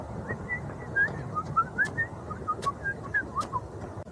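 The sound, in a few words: person whistling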